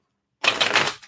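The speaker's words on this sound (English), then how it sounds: "Let me just shuffle these up" A short, close burst of oracle cards being riffled and shuffled, a quick papery flutter lasting under a second.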